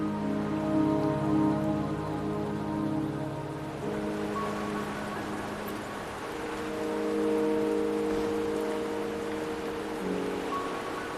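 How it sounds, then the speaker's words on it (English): Steady rainfall pours on surfaces in the video game Wuthering Waves, a dense continuous hiss with droplet patter, joined by sustained tonal music that shifts chords midway, no voices. "Don't worry, the rain won't last much longer."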